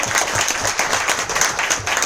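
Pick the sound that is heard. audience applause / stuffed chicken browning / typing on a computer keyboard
audience applause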